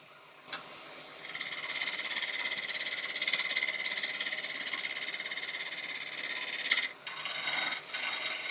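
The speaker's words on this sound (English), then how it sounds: "doing the pull cut to ride the bevel across any of the bobbly bits so that you don't get a" A woodturning gouge makes pull cuts across a yew bowl spinning on a lathe, producing a loud, continuous, close rasping hiss that holds steady for several seconds, then breaks off briefly and resumes.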